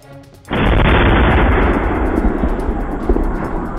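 A loud blast blows up a militant hideout in Bandipora, Kashmir, during a security forces operation filmed by drone; after a quiet start, a sudden powerful explosion erupts and rolls on as a sustained, roaring rumble.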